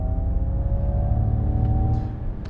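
A Ford Mustang Mach-E GT Performance electric car accelerates with a low rumble and a thin electric whine that climbs gradually in pitch. The sound is close and steady throughout.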